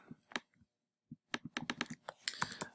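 A computer keyboard clicks in uneven bursts of keystrokes, close and fairly quiet, with a short pause before a quicker run of typing.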